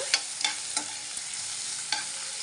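Medicinal leafy greens for a chutney fry in a pan, with a soft sizzle beneath four or five sharp scraping stirs spaced irregularly, close and clear.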